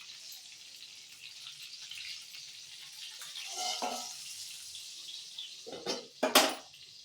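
Stuffed green chillies frying in a pan give a faint, steady sizzle, ending with a few sharp clinks and scrapes of a utensil against the pan.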